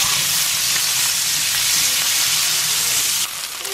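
Onions sauté in rendered bacon fat in a pan, giving a loud, steady, close sizzle that fades slightly at the very end.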